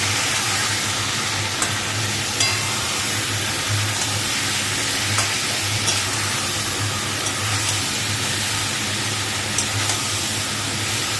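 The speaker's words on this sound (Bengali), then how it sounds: "তো এটা ভালো করে কষিয়ে নিই।" Spice paste sizzles with papaya in a pan, giving a steady, moderately loud hiss with faint scraping clicks now and then and no talk.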